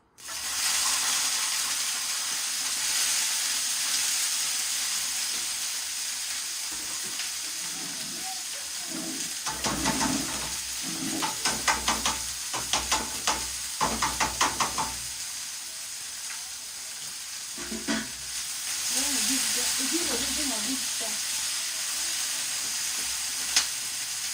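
Peppers sizzle and fry loudly in a hot pan while cooking Alexandrian-style spicy garlic liver, a dense continuous hiss with a burst of crackling spatters and stirring clatter in the middle.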